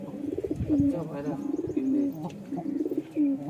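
Pigeons coo in a coop with soft, throaty rolling calls repeating several times close by, while people talk faintly underneath.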